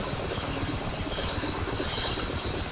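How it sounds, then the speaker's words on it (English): Dense, steady turbine whine and rumble from a Mi-8MTV2 helicopter during a cold start as its number 2 engine spools up, loud and continuous with no talk. "the engine RPM number 2 engine is creeping round as well"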